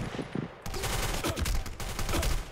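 Rapid automatic gunfire crackles from a firefight in the online shooter Black Squad. It is dense and loud, with overlapping bursts running almost continuously.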